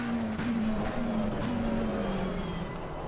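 A Porsche race car in the sim racing game Assetto Corsa Competizione roars past, its engine note droning steadily then dropping in pitch as it moves on, heard over other car noise with no talk.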